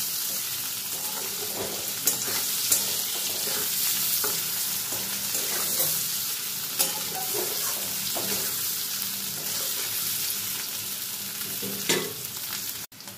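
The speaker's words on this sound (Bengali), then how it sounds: "দেখুন আলুগুলো আমার ভাজা হয়ে গেছে।" Potatoes fry in hot oil with a little salt and turmeric for a paneer and potato vegetarian curry, a steady close sizzle with repeated scraping stirs throughout.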